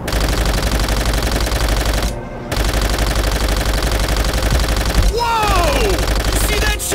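Sustained machine gun fire in Call of Duty: World at War, loud, dense rapid bursts rattling continuously with a short pause partway through, then more firing with whistling debris or tracer sounds near the end.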